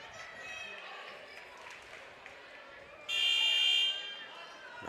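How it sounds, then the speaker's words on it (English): A basketball arena buzzer at a girls high school game sounds one steady tone for about a second, loud above crowd noise and an announcer's commentary. "Now second buzzer."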